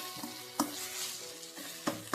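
Food is sautéed in a pan while an egg dish is cooked, with a quiet sizzle under a few distinct spoon scrapes and taps against the pan, close up and faint.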